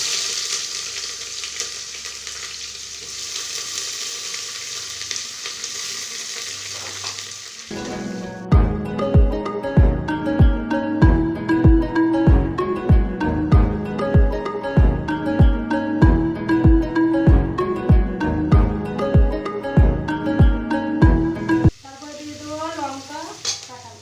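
Onions frying in a pan give a continuous broad hiss, which is later joined by loud rhythmic music with a regular beat for most of the stretch before the sizzle returns alone at the end.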